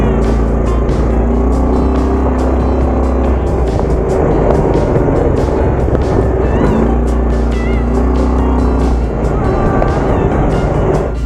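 A quad bike engine drones loudly and steadily while being ridden in Fiji, its harmonic hum shifting slightly in pitch with the throttle, close to the microphone with no talking.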